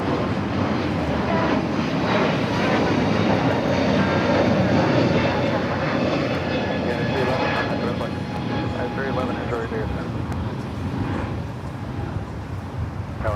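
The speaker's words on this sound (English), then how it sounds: "Virgin Atlantic flight 7, the A350 1000 flight coming in from London Heathrow" Virgin Atlantic Airbus A350-1000 airliner arriving from London Heathrow and landing at LAX, a broad, steady jet roar heard from a distance that swells and slowly fades, with no talk.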